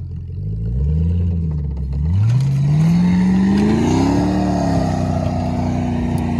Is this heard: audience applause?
no